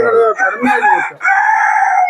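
A native country rooster on a small poultry farm in Udupi district crows loudly and close, a long drawn-out cock-a-doodle-doo with a short break, standing alone without talk.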